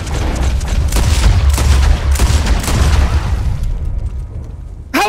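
Gunfire from a Red Dead Redemption 2 bounty-hunting chase, a dense, loud run of overlapping shots and booms that dies down near the end before one last sharp burst.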